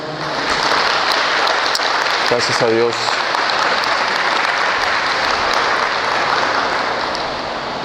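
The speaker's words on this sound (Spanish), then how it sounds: "Démosle un aplauso al Señor." A church congregation at a Wednesday service claps loudly and continuously for about eight seconds, with a voice briefly calling out over the applause near the start.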